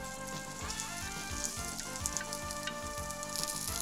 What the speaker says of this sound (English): Add a tablespoon of canola oil and then the shallots.